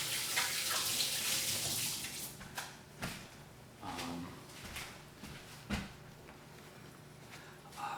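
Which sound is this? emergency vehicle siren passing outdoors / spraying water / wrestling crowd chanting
spraying water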